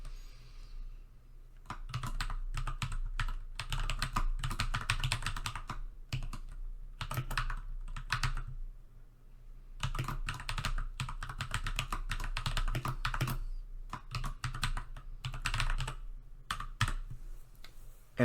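Rapid typing on a computer keyboard in bursts of clattering keystrokes separated by short pauses, close and clear with no talk over it.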